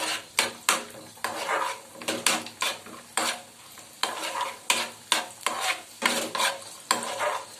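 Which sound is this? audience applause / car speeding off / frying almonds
frying almonds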